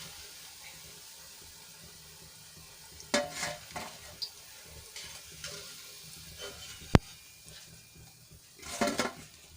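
Methi gota fritters fry in hot oil with a soft, steady sizzle, broken by occasional stirring scrapes and clinks of a utensil against the pan, plus one sharp tap.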